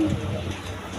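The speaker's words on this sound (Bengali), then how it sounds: "এখানে একটা কালদমের নাজরানা কালদমের মাদি কবুতর আছে" A female Nazrana Kaldom pigeon gives a brief, soft low coo, faint and close, with a murmur of background noise around it.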